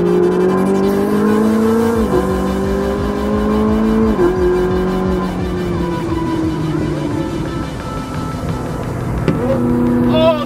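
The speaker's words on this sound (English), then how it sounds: "Check out this 458 pulling up." A Ferrari 458 rolls up nearby, its engine note rising and shifting through several gear-like steps, loud and continuous for about ten seconds with no talk over it.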